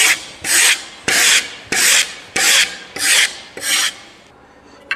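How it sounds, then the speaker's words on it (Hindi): A file card is brushed across the teeth of a metal file to clear trapped metal particles, making seven loud, rhythmic raspy strokes about one per 0.6 seconds, close and with no other sound. "तो इस प्रकार हम फाइल कार्ड के द्वारा रेती में फंसे हुए धातु के कण को हटाते हैं।"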